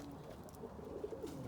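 A low, murmuring coo from a young opal fruit stencil cock pigeon, brief and faint, rises and falls in a couple of soft notes.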